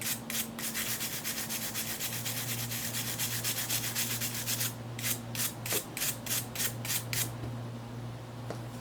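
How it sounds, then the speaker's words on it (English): A steel wire brush scrubs corrosion off small battery connectors inside a handheld console, giving steady rough scratching strokes up close, which turn into quicker, distinct back-and-forth rasps toward the end over a faint background hum. "I'm gonna drag this steel brush over the battery connectors, just get corrosion off"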